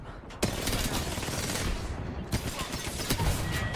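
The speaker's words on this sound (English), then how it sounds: "They're shooting at me." Rapid gunfire in a ranked shooter match crackles close and loud in a dense barrage, with sharper single cracks standing out over the continuous shooting.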